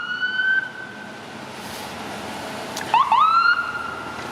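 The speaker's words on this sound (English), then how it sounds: "It's an ambulance." An ambulance siren wails while the vehicle passes along Eglinton Avenue West in Toronto, over a background of street traffic. A rising yelp cuts in partway through and the wailing tone then returns, moderately loud, with no one talking.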